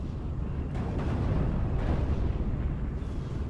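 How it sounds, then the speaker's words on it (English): Nebelwerfer rocket artillery barrage in the WWII strategy game Steel Division 44: a continuous loud, dense rumble of overlapping explosions and booming impacts, sustained without pause throughout. "he's getting hit with Nebelwerfers"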